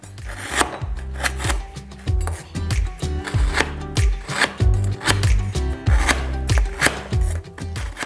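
Knife chopping palm sugar into small pieces on a board for a glass noodle salad dressing, a steady series of close, firm cuts with a brisk irregular rhythm, heard alone.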